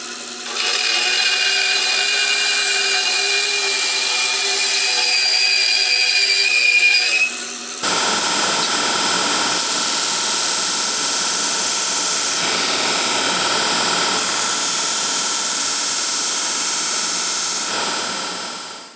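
A bandsaw cuts through wood with a loud steady whine, then a power sander takes over with a rough, broad continuous roar that runs to the end, close and without talk.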